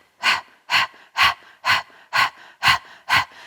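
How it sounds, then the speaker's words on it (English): Kapalabhati breathing during a yoga session: seven forceful, evenly spaced nasal exhales, each a short loud puff about half a second apart, close to the microphone, with no speech. "you could try Kapalabhati breathing here"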